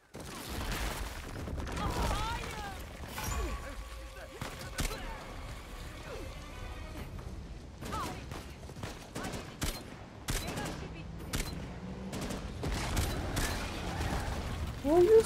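Gunfire in the video game Uncharted crackles in bursts and rapid volleys, mixed with mechanical clanks and creaks, fairly loud and continuous throughout.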